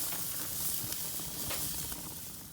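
Flipped picanha steaks on a grill give off a steady, close hiss of sizzling fat that holds even and alone for a couple of seconds.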